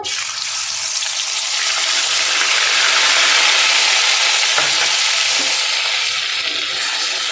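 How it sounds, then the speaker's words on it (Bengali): Prawns frying in hot mustard oil for a pointed gourd and prawn dish sizzle loudly and close, a dense, continuous crackle that swells in the middle and eases slightly toward the end, with no talking. "আমি এবার চিংড়ি মাছটা দিয়ে দেবো। আমি প্রথমে চিংড়ি মাছটা ভেজে নেব।"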